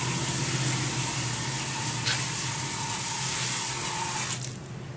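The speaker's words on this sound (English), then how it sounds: "As we're putting water in, you can see the soil settle." Water pours steadily into the soil of a newly potted Persian lime tree set beside a pool, a continuous hissing splash that holds even for several seconds before tapering off near the end.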